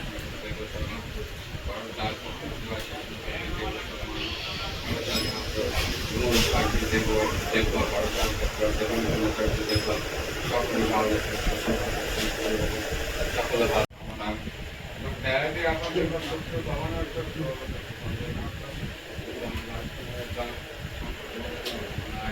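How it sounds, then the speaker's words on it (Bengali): Train passing a railway level crossing on a hot day, a continuous loud rumble and hiss that persists for the whole stretch, with people talking nearby over it. "ট্রেন যাচ্ছে, এখন দাঁড়িয়ে আছে।"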